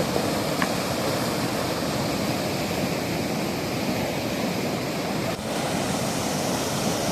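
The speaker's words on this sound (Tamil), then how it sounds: "இரண்டு நாட்கள் பெய்த கனமழையால் வெள்ளப்பெருக்கு ஏற்பட்டுள்ளது" Floodwater surging after two days of heavy rain during Cyclone Fengal, a continuous broad roaring rush at moderate level with no talk over it.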